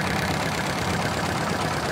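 Boat engine idling at a ghat after a trip on the Padma River, a constant close-up mechanical drone with no pauses or change in pitch.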